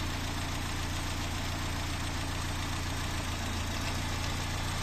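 A small engine idles steadily while its carburetor and throttle are being adjusted, a continuous low rumble with even firing and no talk over it.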